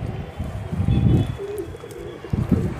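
A pigeon being caught by hand gives low throaty coos in a few short bursts, close and fairly loud, with faint handling noise between calls.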